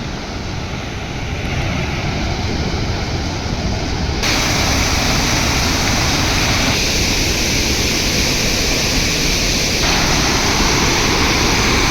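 Fast-flowing flood water pouring over a submerged Kolhapur-type bypass weir, a loud, dense, continuous roar that never lets up.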